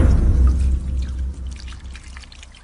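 Cold water is poured by a samurai washing in the morning, a close, gushing splash that tapers off into lighter trickles and drips.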